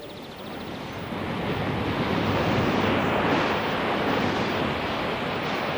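Ocean waves and surf roll in a radio play, a broad, loud roaring wash of breaking water that swells after a moment and holds steady, heard alone without voices.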